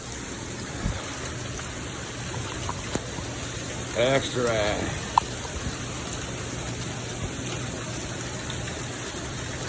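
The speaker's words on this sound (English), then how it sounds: "And it's hailing pretty hard." Hail and heavy rain pound down on a Las Vegas driveway with a truck, a steady loud wash of drops and pelting; someone speaks briefly midway over the downpour.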